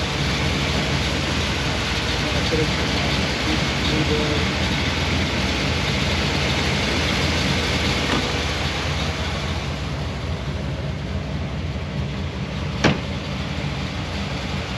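A Chevrolet 350 V8 in a 1974 Corvette idles steadily with a loud, close, even rumble and no voices.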